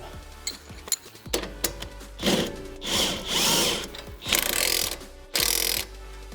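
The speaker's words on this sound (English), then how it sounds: "hold the back with a wrench and tighten it down" A wrench tightens a bolt on KONI suspension parts of a lowered 2015–2022 Mustang. Close, rapid ratchet clicking comes in several short bursts between metallic clanks and handling noises, with no talking.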